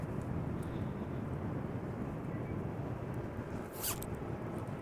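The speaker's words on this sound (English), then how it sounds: "Let me quickly put on my vest." A vest zipper is pulled once in a quick, brief rasp outdoors at Amsterdam Schiphol Airport, faint against a constant low rumble of wind and distant aircraft.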